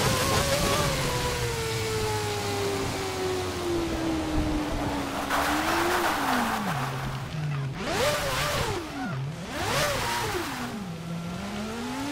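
A Formula 1 car in the Formula 1 2011 game at Malaysia holds a loud engine whine that sinks, then revs sharply up and down as it spins out, with a tire skid screeching and whooshing along the track.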